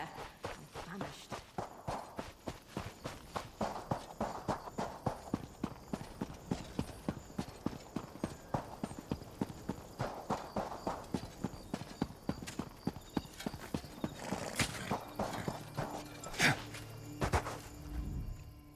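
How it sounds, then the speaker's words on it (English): Horse hooves clip-clop in a steady walking rhythm through Elder Scrolls Online, loud and close, with a brief whinny-like burst near the end. "The horses are restless."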